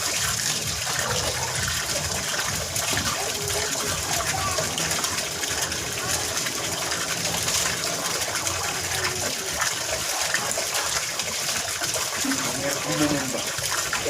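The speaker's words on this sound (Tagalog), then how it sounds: "Pero malakas po ang labas ng tubig." Tap water gushes hard and steadily for hand-washing laundry, a dense continuous rushing wash that runs throughout; a voice speaks faintly beneath it.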